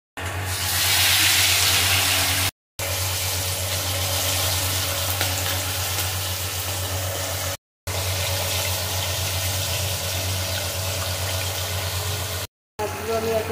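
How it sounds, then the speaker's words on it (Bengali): Hilsa fish pieces fry in hot oil, a steady, loud sizzle and crackle that runs continuously, broken by a few brief silent gaps, with no talking. "মাছগুলো আমি এক এক করে ভেজে তুলে নেবো।"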